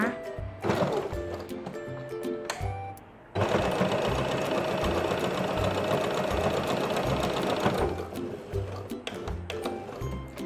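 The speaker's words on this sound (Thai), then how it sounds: "วางเหมือนเดิมเลย เย็บหนึ่งตีนผีเลยนะคะ" A sewing machine stitches binding onto a handmade fabric wallet, running in short bursts, then one long steady run in the middle before slowing into a few more brief stitching spurts, close and clear.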